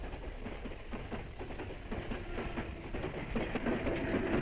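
A train rumbles past close by in a loud, continuous wash of rattling wheels and clickety-clack over rails, with no talk.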